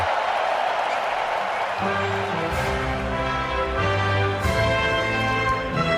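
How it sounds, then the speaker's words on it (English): A large crowd cheers on the National Mall at an American 250th birthday celebration, a dense, loud, steady roar of many voices with tonal elements rising through it. "But listen to this crowd."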